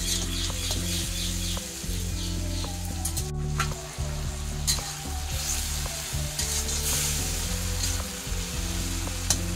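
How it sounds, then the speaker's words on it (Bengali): Tomato frying in a pan until soft, a loud, steady close-up sizzle with occasional stirring scrapes, running continuously and without talk. "টমেটোটা যতক্ষণ না নরম হচ্ছে এটা আমি ভেজে নেব"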